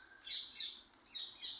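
Green parrots in a cemetery in Tipton, West Midlands, give two pairs of sharp, high squawking calls. The calls come from a moderate distance over quiet surroundings.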